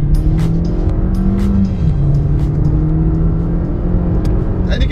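Engine of a 2023 Suzuki Swift Sport while driving, a steady loud drone with a rising and falling pitch, heard alone without talk.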